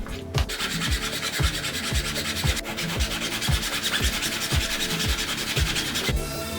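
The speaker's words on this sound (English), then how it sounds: "The tray dividers didn't quite fit, so I used a file to make the dados a little bigger." A hand file enlarging the dados in a wooden tray, with steady rhythmic rasping strokes, about two per second, loud and close with no talking.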